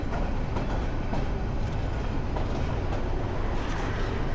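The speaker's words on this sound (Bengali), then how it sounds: "এই যে আমাদের ট্রেন এখন বাম দিকে চলে যাচ্ছে" Nazirhat local train rolling along its tracks, a steady close rumble filling the low end with faint rhythmic rail clatter throughout, no voices.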